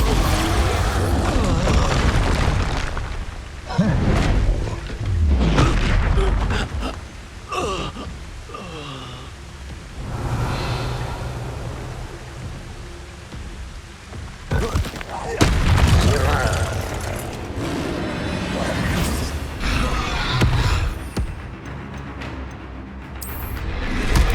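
Booming Expulso explosion spells go off in Hogwarts Legacy, loud and broadband, with heavy blasts and crackling debris over a dense game soundscape and ongoing combat noise.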